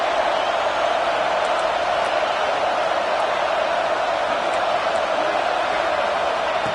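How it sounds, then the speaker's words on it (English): A steady, loud roar of a stadium crowd in a college football video game, an unbroken wash of noise at red-zone time with no distinct cheers or breaks. "This crowd is trying to inspire this defense to make a big red zone stop."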